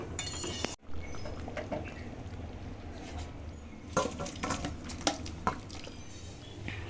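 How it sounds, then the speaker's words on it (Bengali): A spoon stirs boiled mutton with ground garam masala in a pot, giving quiet scraping and scattered clinks and knocks against the metal, louder in a few sharp taps toward the end. "গরম মশলা দিয়ে একটু ভালো করে নেড়ে দেবো"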